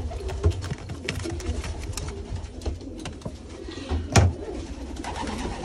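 Racing pigeon stock birds coo repeatedly in a loft, soft low throaty calls close by in an irregular rhythm, with faint rustling and no talk.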